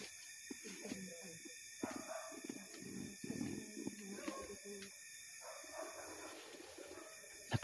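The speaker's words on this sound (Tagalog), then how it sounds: "May aso silang dala." A dog barks now and then in a busy outdoor setting, its short yips and barks mixed into steady crowd chatter and background noise rather than standing alone.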